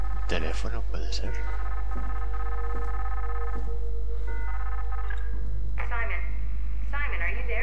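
A telephone rings with repeated electronic trills in the video game SOMA, heard inside a hum-laden in-game environment with a few game sounds in between.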